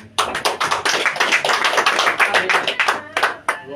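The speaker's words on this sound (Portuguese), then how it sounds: "Palmas para o Senhor." A church congregation claps during a healing and deliverance service, a dense run of sharp hand claps close by, loud and fairly steady for several seconds with slight unevenness in rhythm.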